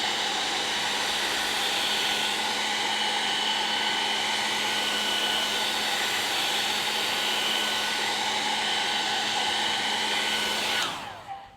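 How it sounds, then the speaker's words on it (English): A hair dryer on its low setting, used to dry alcohol inks, blows with a loud, steady whooshing roar that cuts off near the end. "Now one of the fun things with the hairdryer is not blowing directly on it,"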